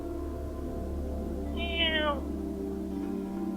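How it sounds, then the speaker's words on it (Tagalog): A single drawn-out, slightly hoarse cat meow rises and falls once over a low droning horror-story ambience, clear and moderately close. "Isang mahina at paos na huni ng pusa ang narinig niya mula sa ilalim ng kanyang kama."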